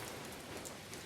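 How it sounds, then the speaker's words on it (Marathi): Steady rain falls outside a village house in a soft, even hiss, faint and continuous for a second, with no voices. "बाहेर पाऊस चालू आहे"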